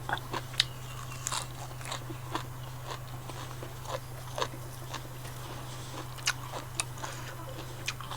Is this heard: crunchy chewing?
yes